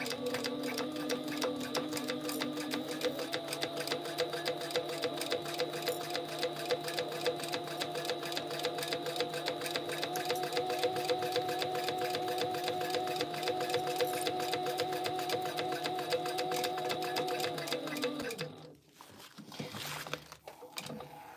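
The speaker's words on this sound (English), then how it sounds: "we're going to top stitch the top and the bottom now" Sewing machine top stitching a clear TPU vinyl zip pouch, running in a steady fast mechanical whir for several seconds before it stops abruptly and leaves a few faint clunks.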